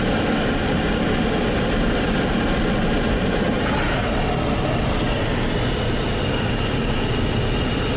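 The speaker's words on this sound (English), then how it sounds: "I'm gonna have to turn on the blower." Car heater blower roaring loudly and steadily inside a vehicle driving through a town during the 2010 snowstorm, a dense broadband whoosh mixed with road and engine rumble throughout, with no talking.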